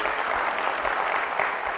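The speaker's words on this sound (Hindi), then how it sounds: "हाँ जोर से ताली बजाइए।" Steady, dense clapping from a large audience at a talk about sports and winning, sustained and fairly loud throughout with no pauses.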